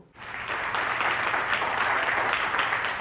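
An audience at a Hindi kavi sammelan poetry gathering breaks into sustained applause to welcome a poet to the stage, rising quickly then holding a steady, full crowd clapping.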